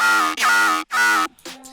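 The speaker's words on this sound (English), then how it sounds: "you can add a background bass which sounds like this" A buzzy wavetable synth background bass for a tearout dubstep drop plays three sustained notes with short breaks between them, then a quieter, thinner tone trails off at the end.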